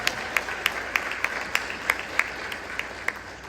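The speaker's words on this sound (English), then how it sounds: "let's give our police department another round of applause" Applause for a police department at a State of the City address comes from a thin, sparse crowd, with a few distinct claps standing out in a roughly regular rhythm over a soft wash of clapping.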